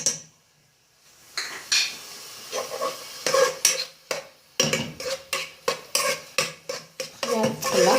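Metal spoon scraping and clinking in a pan while olive tajine ingredients fry, with salt and black pepper added; a soft sizzle sits under repeated sharp utensil strikes in an irregular stirring rhythm, close and moderately loud.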